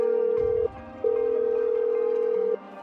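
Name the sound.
telephone ringing tone while placing a call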